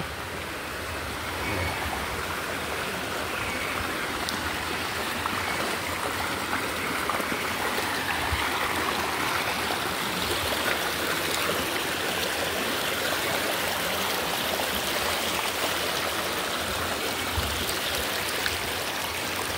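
A steady rush of flowing river water, broadband and continuous, close by with no voices and no break for the full length.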